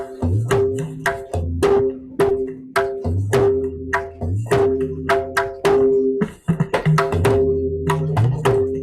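A tabla plays a steady seven-beat rupak cycle of sharp ringing strokes and deep resonant bass tones, close and loud, with no talking.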